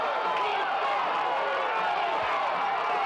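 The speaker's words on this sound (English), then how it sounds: "Crowd whipped up here into a frenzy." A frenzied crowd roars steadily at a 1988 Lancaster vs Zanesville high school football game, a dense, continuous wash of cheering with no break across the moment.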